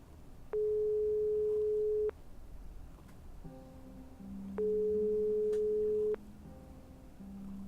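A phone call in the video game Broken Sword 5 goes unanswered, with two long steady ringing tones separated by a pause, clear and fairly loud over quiet background.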